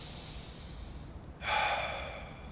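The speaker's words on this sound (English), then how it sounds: "Enjoy this breath." A single deep breath, a quiet airy inhale and then a louder, fuller breathy exhale, close to the microphone with no talking.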